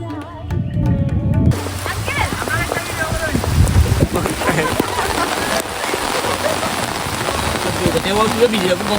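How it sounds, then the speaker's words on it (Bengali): Heavy rain pours down steadily in a village in the Kauadighi haor wetlands, a dense close hiss of drops on surfaces, with faint voices in the background. "মুষলধারে বৃষ্টি।"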